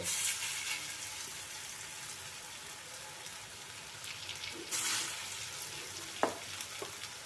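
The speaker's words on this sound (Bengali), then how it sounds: "মাঝারি মাপের করে আমি বড়া করে নিচ্ছি একটু লাল লাল করে ভেজে তুলে নেব" Lentil fritters (bora) sizzle and crackle steadily in hot oil, a soft continuous frying hiss with occasional pops and stirring clinks.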